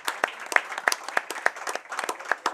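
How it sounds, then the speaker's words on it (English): A live studio audience at a college football coach's show applauds, a moderate burst of scattered, uneven claps from a smallish crowd. "Give yourselves a round of applause."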